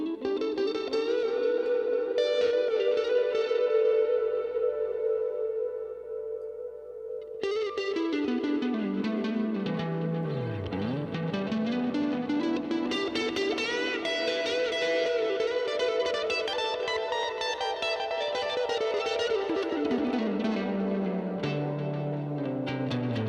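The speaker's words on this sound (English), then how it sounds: "Let's throw some more distortion on this guitar." Heavily distorted electric guitar, a 75th Anniversary Evertune model, rings out with sustained, buzzing notes, sliding down and back up in pitch, thick with echo and chorus.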